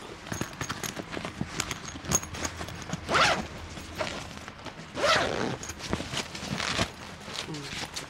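A YKK zipper on a 30-litre Blackdog travel bag rasps in several short, close strokes with brief pauses between them. No voices are heard.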